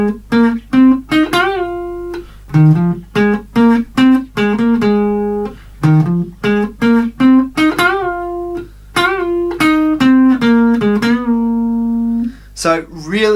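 A guitar plays a choppy, melodic riff in the last chorus of a song, using pentatonic notes. The picked phrases come in short bursts with brief gaps, close and clear, with no voices over them.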